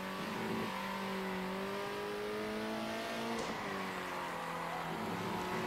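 A race car engine in the video game Circuit Superstars revs continuously, its pitch rising and falling through gear shifts and corners, with a faint tire squeal; the sound is fairly quiet and carries on alone without talk.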